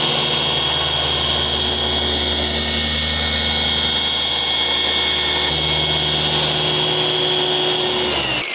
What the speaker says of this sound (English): as this orbital spins, it's generating heat